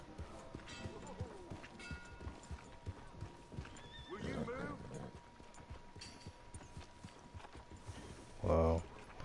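Horse neighing and hooves clip-clopping in Red Dead Redemption 2, with a whinny rising near the middle amid game ambience and soft background voices, followed by a brief loud thump near the end.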